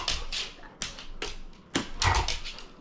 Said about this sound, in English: Let me just calm my dogs down because they're making a lot of noise.